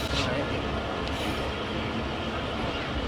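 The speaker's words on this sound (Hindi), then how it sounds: "वो देखें आप, ट्रेन ने ट्रैक चेंज कर लिया है।" A train changing tracks at a railway station, heard from on board a Musa Pak Express railcar, makes a steady, close rumble of wheels and carriage noise with faint squealing.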